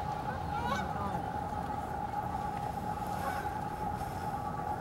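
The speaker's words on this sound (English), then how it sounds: "Oh yeah, geese." Geese honking outdoors in Central Park, a few calls standing out over a steady broad background of city and park noise; a faint voice may be present.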